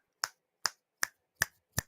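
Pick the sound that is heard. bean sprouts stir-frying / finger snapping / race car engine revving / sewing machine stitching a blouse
finger snapping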